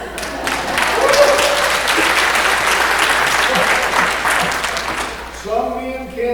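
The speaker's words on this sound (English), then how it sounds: "Let's applaud." A church congregation at a Sunday worship service breaks into loud, sustained applause that fills the room for several seconds, then tapers off near the end as a voice begins speaking over the fading claps.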